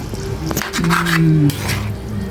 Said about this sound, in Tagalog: Ihalo natin para ma-absorb yung sauce sa pasta.